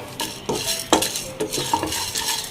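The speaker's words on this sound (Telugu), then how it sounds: "ఇందులో కందిపప్పు 1 స్పూన్ వేసుకున్నానండి. ఈ కందిపప్పు కొంచెం వేగేటప్పటికి మినపప్పు వేద్దాను." Toor dal roasting in a pan for curry leaf spice powder, stirred with a spoon: a series of distinct scraping and clinking strokes against the metal over a faint sizzle, close and moderately loud, with no voices.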